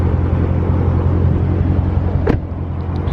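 Dodge Charger Scat Pack parked with its engine idling, a steady low rumble close by with a brief click partway through.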